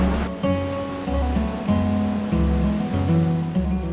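Meltwater streams out from inside a glacier on the Rupin Pass trek in India, a steady, loud rushing flow heard close by with a tonal melody layered over it.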